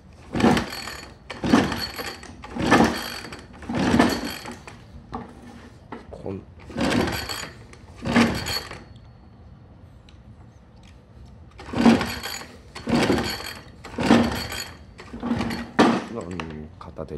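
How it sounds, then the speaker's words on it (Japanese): Recoil starter on a 4WD slope mower yanked again and again, a run of sharp ratcheting rasps in quick bursts with pauses between, close by, while the small engine fails to catch. "これでちょっとリコイル引っ張ってみますか"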